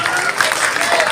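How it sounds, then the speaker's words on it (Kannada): Audience applause at a college book launch held by a cultural society, a dense, steady wash of clapping throughout with no speech over it. "ಜೋರಾದ ಚಪ್ಪಾಳೆ ಬರಲಿ."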